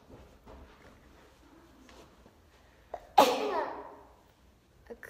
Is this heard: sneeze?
yes